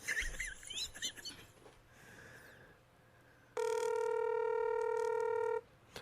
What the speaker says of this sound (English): You calling his cell phone?